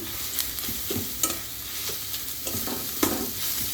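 Chopped ginger fried in a pan for a fish chop makes a steady sizzle, with a spoon scraping and tapping in an uneven stirring rhythm close by.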